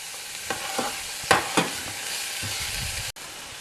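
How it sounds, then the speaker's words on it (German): Chopped onions sweating in melted butter in a pot, a soft steady sizzle with a few stirring scrapes and clatters, close and alone without talk. "Gebt dann die Zwiebeln hinzu und dünstet die an."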